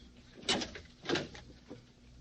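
A door opens in an old 1948 radio crime drama, heard as a few soft, muffled knocks and rattles over a hissy background.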